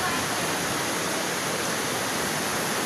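River water at Estrella Falls rushes in a steady, loud broadband roar that fills the whole short stretch without a break.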